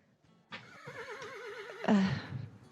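Horse neighing in a video game: a single clear whinny with wavering pitch, followed by a louder snort and huff, close and alone with no talking.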